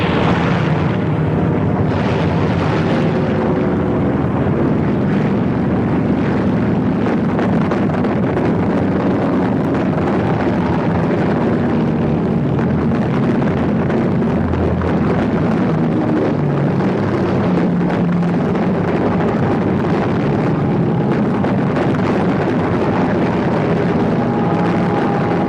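American World War II torpedo planes attack ships at the Battle of Midway: a dense, continuous roar of engines and rushing wind with low rumbling underneath, loud and unbroken throughout, with no voices.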